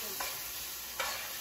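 Onion fries in a pan with cumin and tomato nearby, a steady close hiss of sizzling with two brief stir scrapes.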